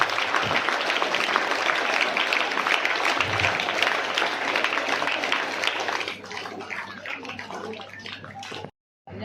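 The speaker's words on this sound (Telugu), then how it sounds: "మంచి క్లాప్స్ కొట్టాలని చెప్పేసి" Parents and teachers at a school meeting give a long round of clapping, dense and steady for several seconds before thinning out and stopping abruptly.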